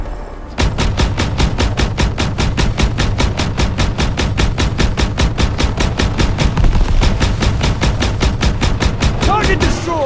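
Battle in Call of Duty: WWII: a loud, rapid and steady stream of machine-gun fire with heavy shots mixed in runs without a break, and a voice shouts briefly near the end.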